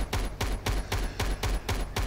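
Rapid gunfire in the video game Starforge during a base defense, with regular sharp bursts about every quarter second, loud and close, carrying on steadily through the clip with no talk.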